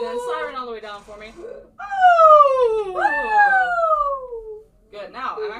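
A singer's voice imitates a siren in a vocal lesson, with two long, smooth downward glides sliding from high to low, framed by shorter vocal sounds before and after.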